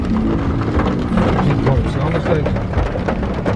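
Steady rain pours down outdoors with a dense, continuous hiss and patter. People talk over it throughout.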